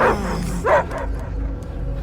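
A dog barks in the Guardians of the Galaxy video game: a few close, loud bow-wow barks and short yips, with a whimpering edge between them.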